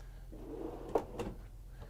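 Cabinet drawer in a Newmar Super Star 4051 motorhome sliding open or shut, a soft rolling rumble building to one sharp knock near the middle and a lighter bump after, heard close up in a quiet interior.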